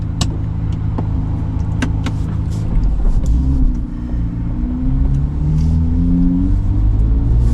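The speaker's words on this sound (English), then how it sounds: "I'm out just testing again in the Z06, 2024 Z06, and I'm going to just cruise around a little bit" A 2024 Chevrolet Corvette C8 Z06 cruises around town, its engine a steady deep rumble from inside the car with a gear change and rising drone partway through, no talk over it.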